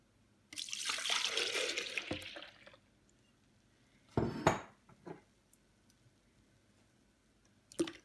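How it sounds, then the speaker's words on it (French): Milk poured into a bowl for savory crêpe batter gives a steady liquid splash and rush for about two seconds, followed by a few sharp knocks of a container against the bowl. "je commence par mettre mon lait"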